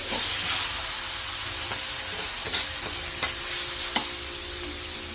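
Beef frying in a large pan and being stirred, with a steady sizzle and hiss throughout and several sharp scrapes and clanks from the stirring, heard close with no voices.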